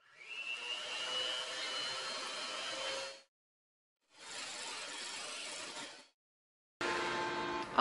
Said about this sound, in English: we're going to whisk our mixture until soft peaks form